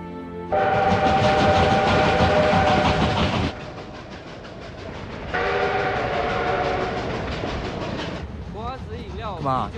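A passing train blares a loud horn twice, long sustained blasts over the rumble and clatter of the cars, then fades as a voice briefly speaks at the end.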